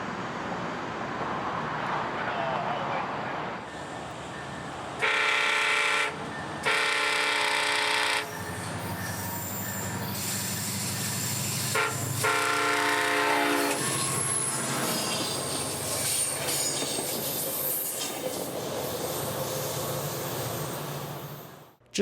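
CSX northbound P306 local freight train rolling past near Sanford and DeBary, Florida, loud and close, with several long horn blasts over a steady rumble of wheels and cars.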